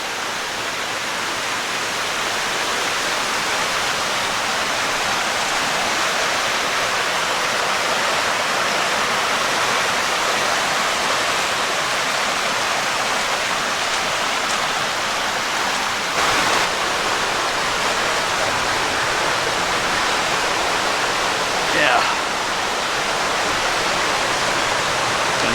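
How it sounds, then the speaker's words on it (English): A small waterfall at Trout Run Nature Preserve rushes in a constant, even hiss of falling water that stays close and unbroken throughout, with no voices. "And there's a little waterfall over here."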